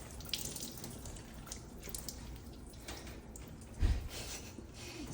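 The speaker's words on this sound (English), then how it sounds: "I'm just squeezing out like all the excess water" Water drips and trickles as excess water is squeezed out of a wet Bernedoodle's coat during a grooming session, with soft splatter and one brief louder splash near the end.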